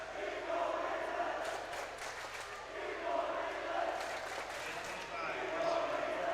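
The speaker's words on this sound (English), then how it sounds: "McDonough crowd wound up for this last relay, chanting Eagle Relay." At a high school swimming championship, a crowd chants in a rhythmic, repeated pattern from some distance, echoing in a large indoor pool hall.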